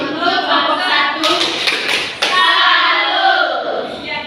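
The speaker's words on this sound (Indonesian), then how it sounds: "Oke, kita tepuk salut untuk kelompok 1." A school class performs a rhythmic clapping chant, the tepuk salut, for group 1, with bursts of many hands clapping together over chanting voices in a room.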